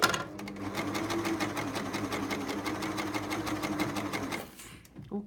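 A Brittania InStyle CS400 coverstitch machine hums and whirs in a steady, rapid stitching run for over four seconds before stopping, close and moderately loud.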